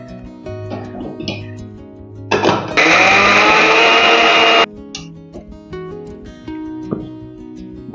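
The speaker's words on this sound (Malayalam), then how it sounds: "ഇനി നമുക്ക് ഒന്ന് അരച്ചെടുക്കാം അല്ലേ അരച്ചെടുക്കാം" Electric mixer grinder blending coconut and red chilli for a Kerala papaya kichadi, running loud and steady for about two seconds in a short burst, with brief clinks and softer kitchen sounds before and after.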